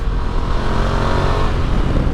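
A Ducati Multistrada V2 motorcycle engine runs steadily up close, a loud, continuous mechanical drone with no break and no talking.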